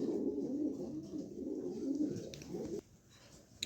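Close, continuous throaty cooing from a wing-clipped male pigeon rolls on for nearly three seconds, then stops abruptly, leaving near quiet with a faint click at the end.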